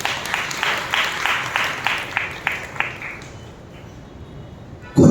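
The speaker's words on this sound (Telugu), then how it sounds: "ఒకసారి మనం బిగ్గరగా చప్పట్లు కొట్టాం" A church congregation gathered for a Republic Day evening service claps in unison, a run of about ten rhythmic claps ringing out in a reverberant hall before fading, followed by a brief burst of noise at the end.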